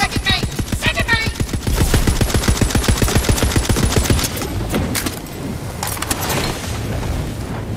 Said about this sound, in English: What the heck was shooting at me?